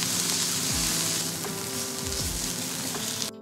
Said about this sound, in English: To a pan on medium heat, add toasted sesame oil followed by garlic and leek.